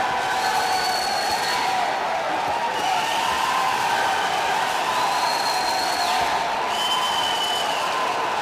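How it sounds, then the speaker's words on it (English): Crowd at a boxing match cheering a local boxer in the fourth round: a steady, loud roar of cheering and applause filling the arena, with whistles rising above it now and then. "Crowd cheering the local boxer midway through the fourth round."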